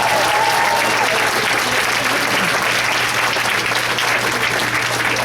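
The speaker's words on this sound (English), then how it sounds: "Give your senior directors another round of applause." Audience applause at a business training event, steady loud clapping from a large crowd sustained throughout without a break.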